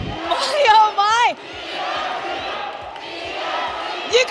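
A large crowd roars and cheers at a live esports event, a Mobile Legends professional league match in the Philippines, with loud rising shouts early that settle into sustained crowd noise throughout.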